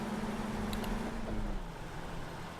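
A Ural 6464 truck engine in Euro Truck Simulator 2 drones low and steady, with a thin turbo whistle riding above it and a slight downward shift partway through.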